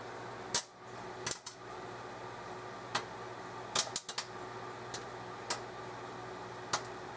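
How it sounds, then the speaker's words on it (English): Scattered sharp pops of corn-on-the-cob popcorn popping in a bag in a microwave, at irregular intervals over a steady background hum, moderately close and fairly quiet. "Yeah, it's just starting to pop."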